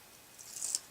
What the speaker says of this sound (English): I'm going to take the back of my tape off